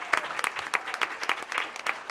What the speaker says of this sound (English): you can clap for them, go ahead, that's good